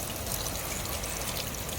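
A natural waterfall in Bastar flows steadily, a soft broadband rush of pouring water heard alone and close, even and continuous for the brief moment.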